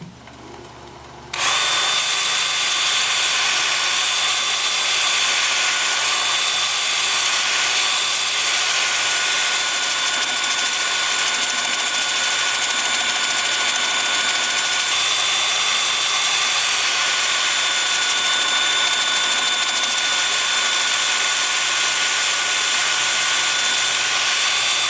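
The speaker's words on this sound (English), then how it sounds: "I'm going to start sanding with my 2-inch sanding disc at 80 grit" A 2-inch, 80-grit sanding disc grinds against a turned walnut piece, starting abruptly after a short quiet moment and then holding a loud, steady high-pitched whir close by.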